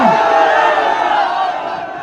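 A large political rally crowd cheers and shouts together in a broad, sustained roar that slowly fades, heard at a distance with no individual voices standing out.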